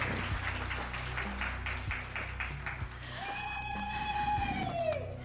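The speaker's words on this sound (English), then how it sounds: "Another round of applause for the Nalafem team" Audience at a women's summit gives a team another round of applause. Fairly faint, rhythmic clapping fills the first seconds, then whistle-like tones rise over the continuing crowd noise.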